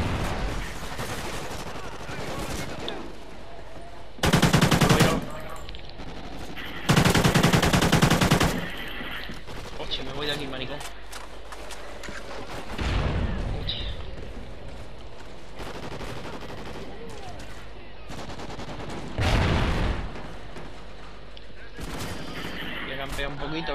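Call of Duty Ghosts team deathmatch gameplay, with loud bursts of automatic gunfire and single shots over a steady background, while someone talks and swears over the action.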